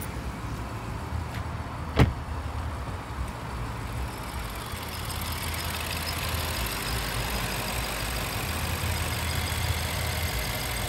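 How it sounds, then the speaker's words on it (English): A 2014 BMW 750i xDrive with a twin-turbo engine idles smoothly in park, a steady low hum heard close by, with a single sharp click near the start and no talking. "twin turbo purring along beautifully"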